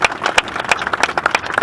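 A church congregation applauds, quick scattered hand claps forming a brief, lively burst of clapping.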